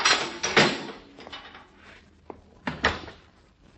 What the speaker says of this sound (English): Shut the door after you, Molly.